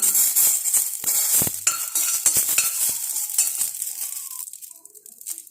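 Curry leaves frying in hot oil in a pan, a loud hissing sizzle with bright crackles, stirred with a few metal scrapes and taps, close up, fading somewhat toward the end, no talking.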